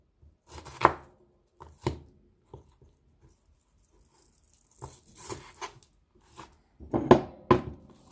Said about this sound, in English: Just gonna do a rough chop.